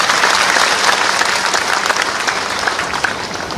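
A large audience at a political gathering in Bhopal claps steadily and loudly, a dense, sustained wave of applause with no pauses.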